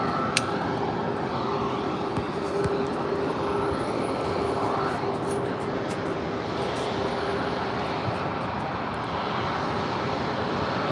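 Aircraft engine roar from planes taking off and landing at San Diego Airport at sunrise, a steady broadband rumble held at an even level throughout with no distinct passes.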